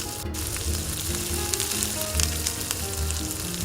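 Onion pieces and green chillies fry in sesame oil, giving a close, steady crackling sizzle with small popping bursts throughout and no voices.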